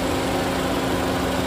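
A 2011 Honda Civic FD 1.8 facelift with manual transmission idles steadily, giving a smooth, even low hum with a constant drone and no revving, close by and alone.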